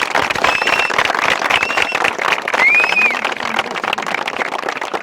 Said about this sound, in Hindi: तो अनिल सर के लिए एक बार बहुत जोरदार ताली अपने दिल से बजाइएगा।